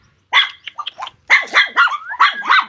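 A dog barks in a loud, close burst: a few short yips first, then a quick string of sharp barks with a slight whine between them.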